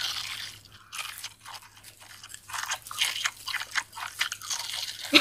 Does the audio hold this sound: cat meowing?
no